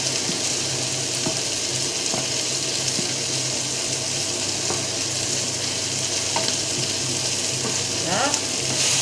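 A spoon stirs cannelloni filling mixed with béchamel in a pan, a steady close frying hiss with occasional light scrapes and clicks, and no talking.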